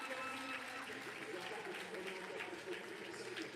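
A stadium crowd applauds Prince Albert II of Monaco at a charity football match, a steady, dense wash of clapping that holds evenly throughout, with a commentator's voice riding over it.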